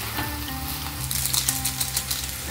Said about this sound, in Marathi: सर्व भाज्या 5-5 मिनिट आपल्याला परतून घ्यायच्या आहे